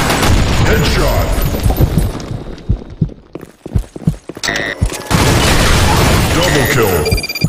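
Grenade blasts and rapid gunfire in a Counter-Strike match on a Sand Storm map, loud bursts and booms packed together, a short lull mid-clip, then dense firing again with game voice callouts mixed in.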